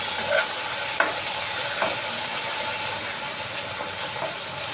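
Vegetables for sambar sizzle and simmer in a pan, a steady close frying hiss with occasional soft clinks and stirring taps, no voices.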